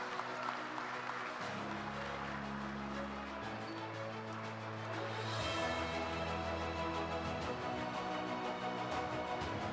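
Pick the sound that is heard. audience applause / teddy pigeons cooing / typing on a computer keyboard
audience applause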